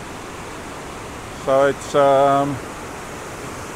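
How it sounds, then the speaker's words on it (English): A waterfall on Newlands Beck gives off a constant, even roar of falling water that fills the background, while someone speaks briefly over it near the microphone. "we've made it up to the waterfall"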